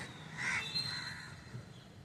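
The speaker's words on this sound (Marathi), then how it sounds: "त्या झाडावरती कुठेतरी घरटं घातलं आहे कावळ्यांनी" Crows caw from a nest somewhere in a tree, a couple of loud, harsh calls close by early in the clip, then fading into quieter outdoor background.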